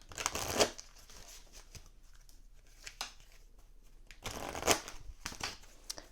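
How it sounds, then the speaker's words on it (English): Tarot cards are shuffled up close in two quick riffling bursts, with softer handling and tapping sounds in between. "I'm just going to give them a quick shuffle"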